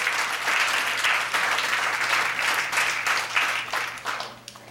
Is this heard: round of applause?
yes